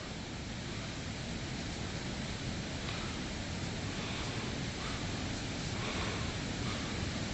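Steady, dense roar of a Himalayan waterfall, broadband and continuous like rushing water heard from a distance, holding a constant level throughout with no talk.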